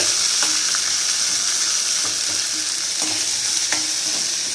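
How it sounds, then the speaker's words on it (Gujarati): Urad dal, mustard seeds, curry leaves and onions frying in oil, a steady close sizzle with occasional spoon scrapes and stirring taps. "અડદની દાળ થોડી લાલાશ પડતી થાય એટલે આપણે રાઈ એડ કરીશું।"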